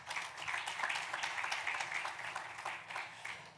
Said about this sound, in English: He also deserves one good round of applause.